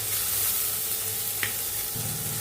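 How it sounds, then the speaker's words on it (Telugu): Onions fry in hot oil along with mustard seeds, dried red chilli, curry leaves and green chillies, giving a steady close sizzle with one faint clink partway through and no voices. "ఉల్లిపాయ తొందరగా వేగిపోవటానికి సాల్ట్ యాడ్ చేస్తున్నాను"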